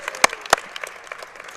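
Spectators at the Turning Stone Classic pool tournament finals applaud, two sharp claps standing out at the start before scattered, lighter clapping trails off.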